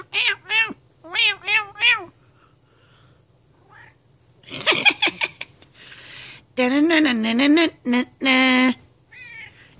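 A female cat meows repeatedly, close and loud, in short wavering calls and a longer drawn-out yowl, while a person nearby imitates the meows and talks to her.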